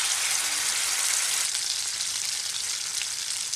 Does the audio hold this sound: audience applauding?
no